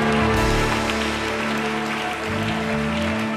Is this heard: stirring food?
no